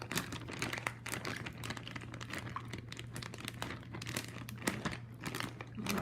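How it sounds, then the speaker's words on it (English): Cereal held at an angle is squished and mushed, giving a steady crinkly, crunchy crackle that runs continuously at close range over a low constant hum, with no talk. "I'm just going to sit and squish this cereal for a little bit."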